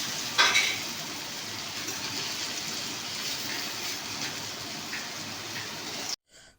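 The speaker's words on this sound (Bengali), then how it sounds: "এবার এটি চাপড়ির আকারে ভাজতে হবে অথবা বড়ির আকারে ভাজতে হবে তেলের মধ্যে দিয়ে" Ground lentil fritters fry in hot oil in a village-style kitchen, a dense, steady sizzle close by, with a brief louder burst near the start and a sudden cut-off at the end; no one speaks.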